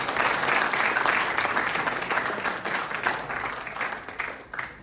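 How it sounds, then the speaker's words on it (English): A conference audience at a sustainability conclave breaks into sustained applause, dense and steady for several seconds before thinning slightly toward the end. "Let's have a big round of applause for all of us."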